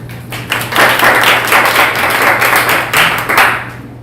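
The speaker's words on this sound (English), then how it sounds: "I just want to give you all a good round of applause" A crowd applauds steadily at an environmental action forum competition final, a dense wash of clapping that starts after a brief pause and carries on at moderate volume with a low steady hum beneath.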